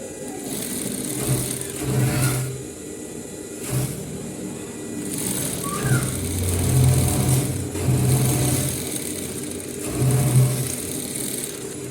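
An electric sewing machine stitches a half-inch dart in a men's suit, its motor whirring in several short runs separated by pauses, fairly close and steady during each burst, with no voices.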